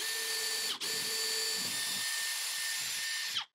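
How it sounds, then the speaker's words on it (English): Power drill spinning a 5/8 spade bit through a wall to make a hole for a toggle bolt, a loud steady whine that stops briefly, then runs on before cutting off. "take a 5/8 spade bit and drill the hole"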